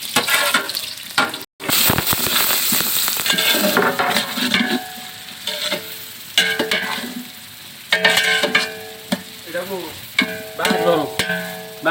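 Onions drop into hot oil in a large pot used to cook 4.5 kg of chicken, sending up a loud crackling sizzle. A ladle scrapes and clanks against the metal while voices chatter nearby.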